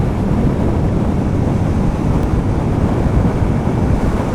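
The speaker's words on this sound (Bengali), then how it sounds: "বাতাসের একটা চাপ আমি অনুভব করতেছি বাতাস সম্ভবত এই পাশ থেকে এই পাশে ক্রস করতেছে" Strong wind blowing outdoors, a loud continuous roar buffeting the microphone, steady from start to end with no voices.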